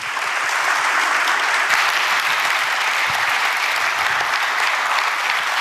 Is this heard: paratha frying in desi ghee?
no